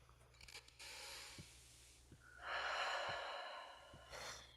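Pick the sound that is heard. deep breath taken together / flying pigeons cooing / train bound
deep breath taken together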